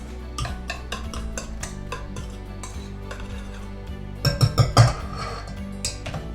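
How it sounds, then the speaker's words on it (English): Oil and lemon zest are stirred into lemon loaf batter in a bowl, with a spoon scraping and clinking close up, finishing in a few louder knocks against the bowl's side. "we are going to add our oil and the lemon zest. And give it a little stir."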